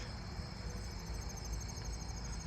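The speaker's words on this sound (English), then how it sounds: "I've actually been hearing more southeastern field crickets up close. Allard's ground cricket, I think" Allard's ground cricket chirping in a neighbourhood, a faint continuous high insect trill running steadily throughout without breaks.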